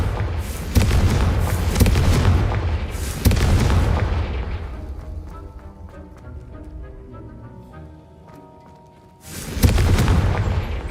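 Confringo blasting spells explode in Hogwarts Legacy: three loud, deep booms, the first two close together and the third after a fading rumbling tail, each with a sharp crack and heavy low rumble.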